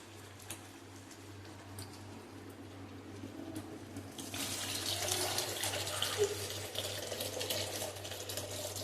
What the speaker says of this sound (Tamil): குழம்பு நல்லா ஓரளவு கொதித்து கொதித்து வந்துச்சு ஃப்ரெண்ட்ஸ் இதில் வந்து நம்ம புளி தண்ணி சேர்த்துக்கலாம்